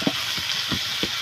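Banana flower tipped into a pan of hot, well-fried spice paste, giving a loud, steady sizzle and hiss broken by a few soft low thumps as the pieces land and are moved, with no voices.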